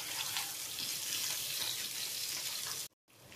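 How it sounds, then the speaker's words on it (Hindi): Mango pieces stir-fried with spices in a pan for a mango launji chutney, a continuous close sizzle with stirring scrapes that cuts out abruptly near the end before resuming faintly. "अब इसमें हम ये अपना आम डाल देंगे और इसको हम थोड़ी देर चलाते हुए भूनेंगे"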